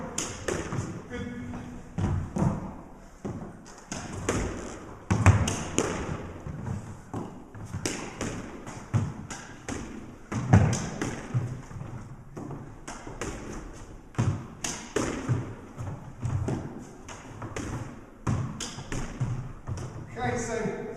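A squash ball struck with a Prince TT Airstick 130 Lite racket during mid-range drop shots, giving repeated crisp thwacks and bounces off the walls and floor in an irregular rally rhythm, close by, with someone talking over the play at times.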